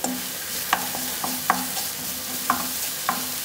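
A vegetable stuffing with salt and thyme cooks gently in a pan: a steady sizzle with a low hum beneath, punctuated by about six light clicks of a utensil stirring against the pan, with no voices.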